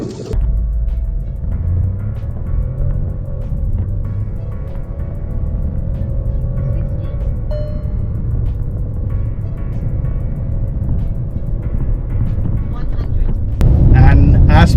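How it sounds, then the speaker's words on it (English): A 2025 Skoda Kylaq petrol automatic with a torque converter accelerates hard from 0 to 100 km/h in sport mode, its engine droning loudly and steadily inside the cabin with rising road rumble, briefly surging louder near the end. "In terms of your 0 to 100, how quick is the car? Remember, it's an automatic, not the manual, the torque converter."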